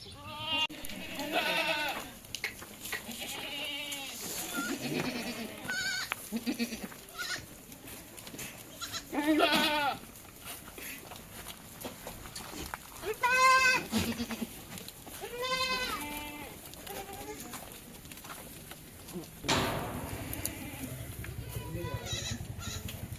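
Kathiawadi goats bleat repeatedly, loud and close, one wavering call after another with short pauses between, over a low background hum.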